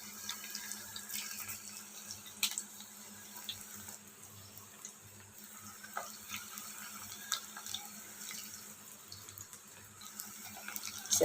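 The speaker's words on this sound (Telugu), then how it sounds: "ఆయిల్ అయితే హీట్ ఎక్కింది. ఇప్పుడు పకోడీ అయితే వేసేసుకుందాం" Onion pakoda batter frying in hot oil gives a steady, close sizzle with scattered crackles and pops that keeps up throughout, with no voices.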